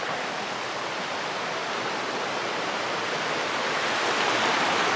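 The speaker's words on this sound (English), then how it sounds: "Here's Lemma Creek, where the bridge is out." Creek water rushes steadily at Lemma Creek on the Pacific Crest Trail, where the bridge is out, producing a dense, continuous, close-up roar with no pauses and no voices.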